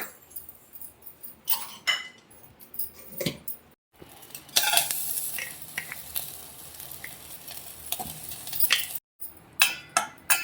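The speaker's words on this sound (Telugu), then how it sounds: "ఇలా వడగట్టుకున్న జున్నుని మనం కొద్దిగా బెల్లం వేసుకొని కరిగించుకుందాం" Jaggery melting in a pan for homemade junnu, with soft sizzling and intermittent scraping of a utensil stirring against the pan, close up, broken by brief pauses.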